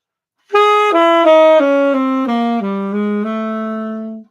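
A solo bebop line over a dominant chord, sustained, connected notes stepping downward, played clearly and loudly with no talking.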